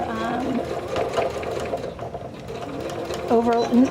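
Sewing machine stitching a binding seam on a garment collar, a steady close mechanical whirring hum with brief speed changes, a voice talking over it.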